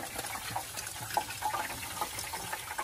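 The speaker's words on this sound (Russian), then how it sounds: "О, это вода стекает к масляному поддону." Water sizzles and boils on the scorching underside of a 1979 Ford engine's oil pan, a steady close crackling hiss with small pops and no voices.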